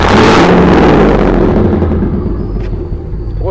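A 1999 Chevrolet Z71 truck engine gives a loud, close rev that booms and rumbles at first, then settles into a lower idle growl, with a faint voice at the very end.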